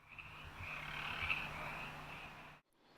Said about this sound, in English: hear frogs in the water passageways that head down to the beach